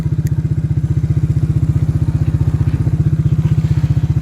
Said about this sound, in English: Just out taking the dog for a bit of a walk on the motorbike